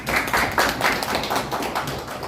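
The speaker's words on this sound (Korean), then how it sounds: "힘찬 박수로 모시겠습니다" Applause from an audience welcoming a speaker to the podium at a Korean political forum, a dense, steady patter of many hands clapping throughout, fairly loud and continuous, with no voices over it.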